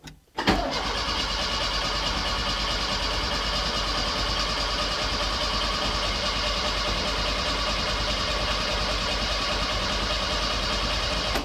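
An Autobianchi A112 Abarth engine catches after a brief crank, then settles into a steady, loud, continuous run that holds unbroken for about eleven seconds with no talk over it.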